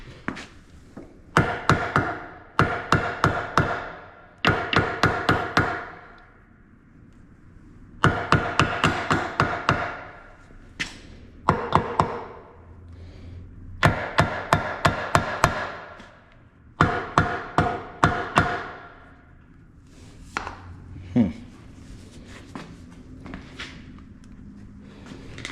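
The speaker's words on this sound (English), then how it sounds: "just give it a few taps with that hammer and it should come right off" Metal hammer tapping on a Mercury Pro XS outboard lower unit to knock a part loose, in repeated quick bursts of sharp, close, ringing taps separated by short pauses.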